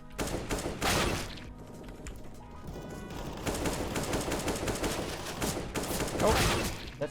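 Rapid automatic gunfire from Counter-Strike: Global Offensive rattles in dense bursts across the whole stretch, loud and close, with brief pauses between volleys and game sound effects mixed in.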